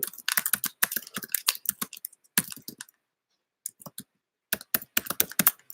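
Rapid bursts of computer keyboard typing, close and crisp, with irregular clusters of keystrokes broken by a brief pause before a final flurry.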